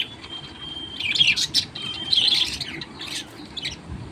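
Two small birds chirping in the early morning, bright high tweets and short trills in a few quick bursts over a quiet background hiss, moderately close.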